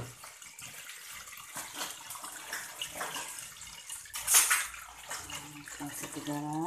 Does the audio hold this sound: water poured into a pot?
yes